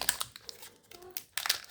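A Pokémon Sun and Moon booster pack wrapper being torn open, with sharp plastic crinkles in short bursts near the start and again toward the end, close and fairly loud.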